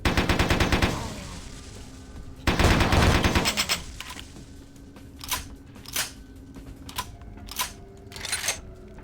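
Submachine gun fire from the video game Vampire: Bloodlines comes first as two dense, loud rapid-fire bursts. Several separate sharp single cracks follow at spaced intervals.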